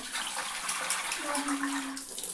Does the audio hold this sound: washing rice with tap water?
yes